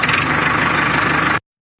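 A small tractor engine idles with a loud, steady, throbbing rumble that cuts off abruptly after about a second and a half, with no voices.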